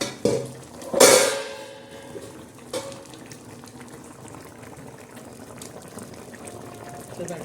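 Horse gram shengole simmering in a covered pot, with a steady close bubbling after a couple of sharp clanks from the lid or utensil at the start.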